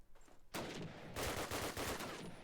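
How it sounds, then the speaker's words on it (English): Rapid automatic MP44 fire in a competitive Call of Duty match, two sharp bursts of gunshots in quick succession, loud and close, with no talk over them. "Just peeking that corner with the MP44, taking him down."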